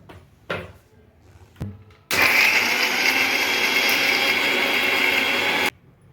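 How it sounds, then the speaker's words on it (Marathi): A mixer grinder blends cooled tomato puree for paneer butter masala, with a couple of sharp knocks as the jar is set in place, then a loud, steady whirring roar for about three and a half seconds that cuts off abruptly. "दुसऱ्या साईडला प्युरी गार झाली आहे, त्यामुळे मी आता ती मिक्सरला वाटून घेते।"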